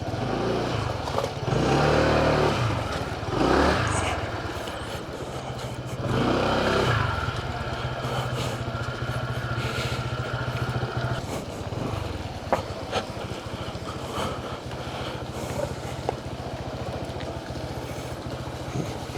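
A motorcycle rides into university grounds, its engine droning steadily with a couple of revving surges near the start, plus rattling and scraping clatter from the road.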